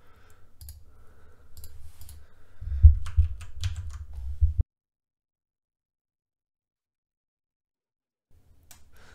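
Computer keyboard typing while entering network credentials for an ESP32 board, a close burst of rapid clicks for about four seconds that stops abruptly, followed by near silence.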